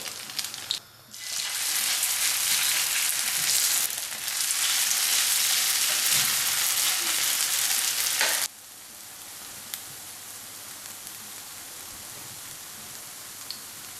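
Loud, continuous sizzling of semolina and apple pancake batter frying in a hot pan, which suddenly drops to a softer, steady crackle partway through.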